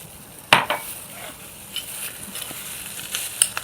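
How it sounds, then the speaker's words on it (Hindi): A spoon knocks once sharply, then stirs and taps as milk is mixed into a French toast mixture in a bowl, close up with faint scraping and a few light clinks, and no talking. "उसमें दूध मिला देंगे"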